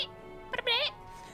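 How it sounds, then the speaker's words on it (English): A small cat gives a brief, soft chirp-like noise that falls short of a full meow, a couple of short bursts followed by a longer wavering call, close and fairly quiet over faint game music in the background. "Most of the time it's not a proper meow"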